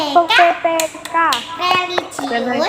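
Children in a classroom chanting the PPK clapping routine, a voice leading the rhythmic call with sharp hand claps punctuating the chant.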